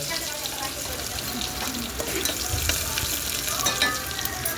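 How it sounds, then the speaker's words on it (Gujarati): Green chillies and mustard seeds frying in hot oil for Gujarati methi na gota, a steady dense sizzle and crackle that stays loud throughout, with faint clinks of a stirring utensil. "પછી રઈ આપણી સતળાઈ જાય એટલે એમાં આપણે લીલા મરચાં એડ કરીશું"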